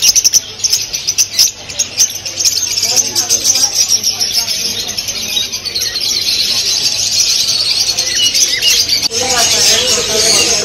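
At a busy pet market, American parrots and lovebirds keep up a dense, shrill chirping and chattering that carries through the whole stretch, with people talking nearby.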